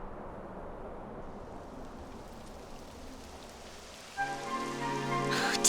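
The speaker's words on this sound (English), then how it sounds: "It would have to go and start raining, wouldn't it?" Rain falling in Dragon Quest XI makes a soft, steady patter that slowly builds, then turns into a brighter rushing downpour joined by a faint tonal musical swell near the end.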